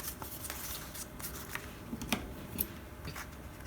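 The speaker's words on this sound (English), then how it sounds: "I'm going to cut off the corners." Scissors cut the corners off folded paper for a junk journal pocket, giving a few quiet snips and paper rustles close by, with no talking.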